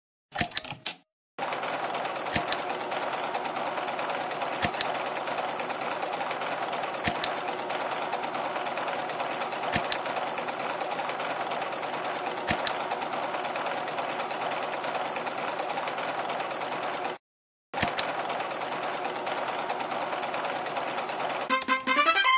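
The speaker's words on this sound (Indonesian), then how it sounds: "Ayo jahit baju berleher tinggi." A toy-scale sewing machine stitches a high-necked garment for a doll, running in a steady, loud mechanical whir for about twenty seconds with two brief pauses.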